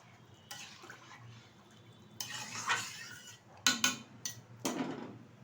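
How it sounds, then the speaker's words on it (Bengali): Fried chicken pieces being added to a pan for chilli chicken, with a few clattering metal and utensil knocks and some sizzling at a moderate distance. "এখন দিয়ে দেব ভেজে রাখা চিকেন"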